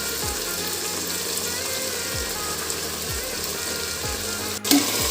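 Chickpeas and spices sizzle steadily in hot oil for Assamese kala chana, with a spoon scraping and stirring through the pan at regular intervals and a brief knock near the end.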